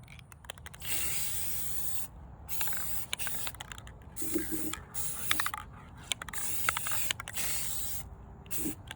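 Short bursts of spray paint hiss from an aerosol can coating the underside of a faux camera, several separate pulses with pauses between, close by and fairly loud, mixed with light handling clatter.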